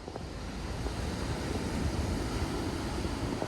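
Ocean surf seen from a hilltop: a steady, distant wash of waves that rolls on without pause, mixed with wind noise and no voices.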